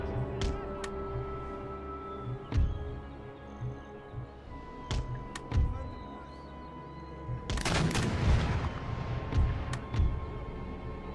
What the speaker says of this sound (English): Artillery can open up, maybe with shrapnel, yes.